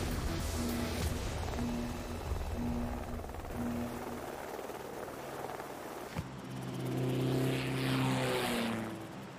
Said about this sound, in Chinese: 飞机很快就要起飞了，各位特种兵，